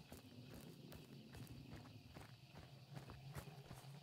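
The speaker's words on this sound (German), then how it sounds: "Habe ich da hinten jetzt ein Pferd gehört?" Hooves clip-clop in a quick, faint rhythm from a horse in Hunt: Showdown at a pig farm, soft and somewhat distant against a quiet background.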